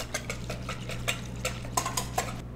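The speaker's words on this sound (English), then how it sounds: "Then whisk it together." Vegan French toast batter is whisked in a bowl, giving a quick run of light, rhythmic clinks and taps of the whisk against the bowl over a low steady hum, with no talking.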